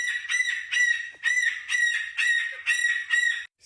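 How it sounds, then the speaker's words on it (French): A parrot squawks repeatedly, loud and close, in harsh, evenly spaced screeches with short gaps between them. "un perroquet, ça peut faire ça"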